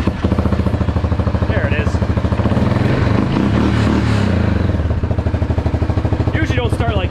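A Yamaha Grizzly 700 ATV engine with a suspected throttle position sensor fault runs loud and close, a rapid even idle throb with some clatter, while someone speaks briefly over it.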